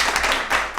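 A brief clapping sound effect plays in a Korean talk show: a few quick, soft claps in a short burst.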